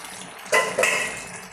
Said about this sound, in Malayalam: നമുക്ക് മസാലപ്പൊടി ഇട്ടത് നമുക്കിതൊന്ന് ഇളക്കാം